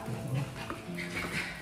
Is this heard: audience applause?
no